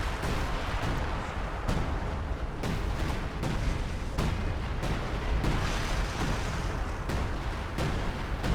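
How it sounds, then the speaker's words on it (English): Artillery barrage in the video game Company of Heroes 2, loud dense shell impacts and booms repeating irregularly over a constant rumbling battlefield roar. "Just look at all the artillery coming down. It's still coming down."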